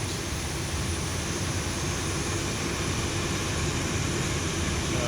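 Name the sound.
Boeing 737-800 jet engine starting, X-Plane 11 video game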